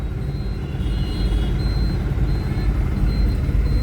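Steady roadside traffic jam beside tunnel construction work, a continuous low rumble of idling cars, trucks and buses with faint reversing beeps pulsing above it, close and loud throughout.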